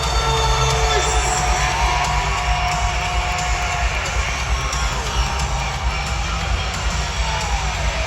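A packed indoor arena roars during an Indoor Football League game between the San Diego Strike Force and the Bay Area Panthers, with loud, sustained cheering, whoops and yells throughout.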